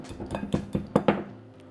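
Whisk beating apple fritter batter in a bowl, six quick metallic clinks and scrapes against the bowl's side in an uneven rhythm, close and fairly loud, then fading out.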